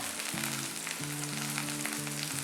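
Dried chillies and asafoetida sizzle in hot frying oil for a roadside-style kara chutney, a loud and dense crackling hiss heard up close with no talk.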